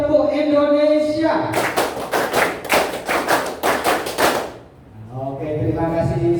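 A classroom of students claps the Tepuk Indonesia pattern together, quick rhythmic bursts of sharp close claps in grouped beats, with a teacher talking just before and after.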